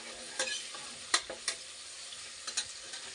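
Homemade garlic paste fries and sizzles in a pan, a steady hiss broken by several sharp scrapes and stirring knocks of a spatula, close and alone with no voices.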